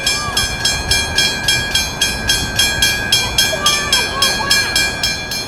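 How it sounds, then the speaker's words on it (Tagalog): A train rolls past nearby with steady, regular clickety-clack pulses from the wagons and a sustained whistle-like tone, while voices chatter in the background. "Yeah, the train is coming."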